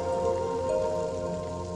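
Rain falls in a brief, steady hiss, with a faint constant tone underneath and no voices.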